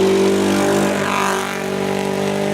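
A rally car engine at the Rallye de Charlevoix RSQ championship (2017) runs on only three of its cylinders, giving a loud, steady, close drone with strong harmonic tones that sag slightly midway before holding again.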